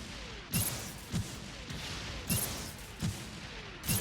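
Mobile suit shots in the Gundam Evolution game, five heavy booming blasts fired at roughly even intervals about a second apart, loud and close with no talking.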